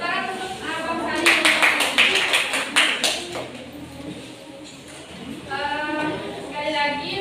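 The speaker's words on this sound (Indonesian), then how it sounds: "Tepuk tangan untuk Abang Sani." Students in a primary school science class clap for a classmate after his presentation, a short burst of close, dense hand claps with voices speaking before and after it.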